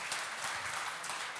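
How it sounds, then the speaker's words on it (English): Audience applause at an automotive industry forum: a brief stretch of dense, even clapping from a crowd, steady and fairly loud throughout. "with the round of applause"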